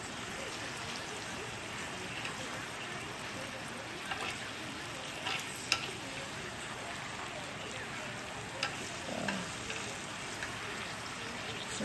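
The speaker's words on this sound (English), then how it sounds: "I'm going to do a quick stir so everything gets mixed up nicely" Beef bulgogi and vegetables in sauce frying in a pan while being stirred, a steady close hiss and sizzle with a few brief clinks and scrapes scattered throughout.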